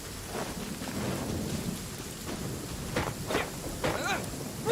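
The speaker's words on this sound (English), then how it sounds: "It's raining." Steady rain hisses through a Genshin Impact game world while low thunder rumbles underneath, with a few brief louder cracks and swells toward the end; no voices are heard.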